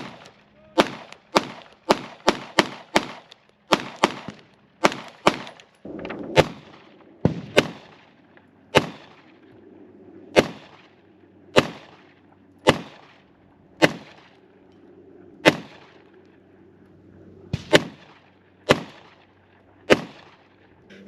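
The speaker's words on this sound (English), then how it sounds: "We're shooting these Blazer 115 gray 9mm cartridges" Glock 26 pistol firing Blazer 115-grain 9mm rounds, a string of sharp, loud shots, quick at first and then spaced a second or two apart, roughly twenty in all, each with a short echoing tail.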